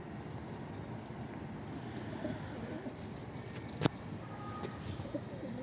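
Soft, low cooing from a pigeon comes in and out against a quiet outdoor background, with one sharp click partway through.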